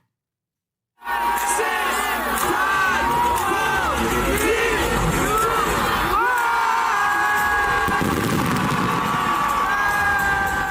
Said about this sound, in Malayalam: പുതുവർഷത്തെ വരവേൽക്കാൻ ഖത്തറിലെ ലുസൈൽ ബോളിവാർഡിലെത്തിയത് റെക്കോർഡ് ജനക്കൂട്ടമാണ്.